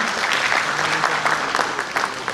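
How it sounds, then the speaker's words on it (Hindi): Steady, loud audience applause at a 15 August cultural programme, a dense crowd of clapping hands sustained for the whole stretch in honour of a small child performer. "इस छोटे से बच्चे के लिए जोरदार तालियां लगाएं"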